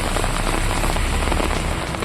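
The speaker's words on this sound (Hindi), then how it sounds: "रामबन में पिछले 3 दिनों से तेज बारिश हो रही है।" Heavy rain pours down steadily in Ramban after days of downpour, a dense, loud, continuous hiss of drops striking surfaces with no voices.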